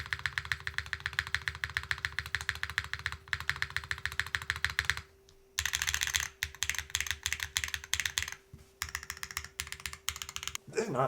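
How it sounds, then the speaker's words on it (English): Rapid clacking of a Neo65cu mechanical keyboard, the spacebar and modifier keys tapped in quick bursts with short pauses, close up, over a faint steady hum. "I think the side or the spacebar and the modifiers all sound really good"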